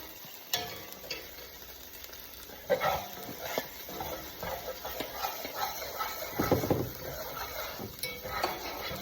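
Anchovies fry and melt in a pan, giving a continuous low sizzle broken by sharp scraping and clinking as they are stirred, with several louder knocks of utensil against the pan.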